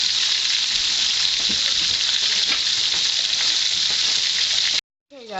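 Battered swai fish fries in hot oil, giving a loud, steady, dense sizzle that runs unbroken before cutting off abruptly near the end.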